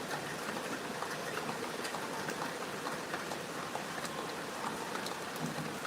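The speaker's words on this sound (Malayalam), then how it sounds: "പിന്നെ നമ്മളിവിടെ വെച്ചാൽ മഴ ഇപ്പം കുറച്ച് നേരം കണ്ടിന്യൂസ് ആയി പെയ്യും" Continuous rain pouring steadily, a dense, even hiss of drops on surfaces with faint scattered patters, moderately quiet and unbroken throughout.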